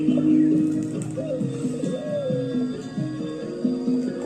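A spotted dove (tekukur) coos in a repeated, rhythmic series of soft low calls that carry steadily through the whole stretch, close and moderately loud with no talking.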